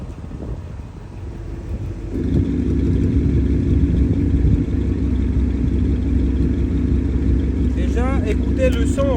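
BMW 540i E39 V8 with a custom-made exhaust idling close by, a steady deep low rumble that rises and settles after about two seconds, with wind buffeting the microphone and someone speaking over it near the end.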